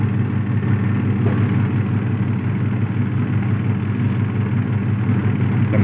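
A 2024 ABDULLAH AE390 3.5 kg dough making machine runs with a steady, loud, continuous motor hum and low rumble, unbroken from start to finish with no talking.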